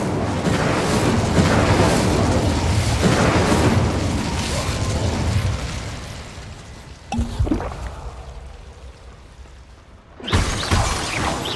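Incendio fire spell cast in Hogwarts Legacy, a roaring whoosh of flame with booming bursts, loud and dense before fading, then a sharp pop and another surge.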